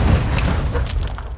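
A grenade goes off in the Call of Duty video game: one loud, close, deep boom that rumbles heavily and fades over about a second and a half.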